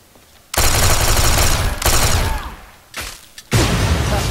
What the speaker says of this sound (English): I guess it's an overcharged pistol fucking duel.